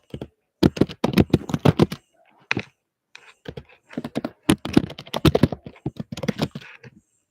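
Someone types an email address on a computer keyboard, quick bursts of crisp key clicks separated by short pauses, close and clear with no talking.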